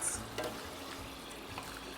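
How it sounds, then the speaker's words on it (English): Quiet sizzling of chickpeas frying in a pan with soft scraping as they are stirred, low and continuous. "And so we continue frying."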